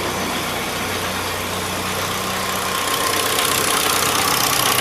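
A 1947 Willys engine idles steadily with no air cleaner fitted, a continuous mid-pitched running drone with a slight knocking texture, close and alone throughout.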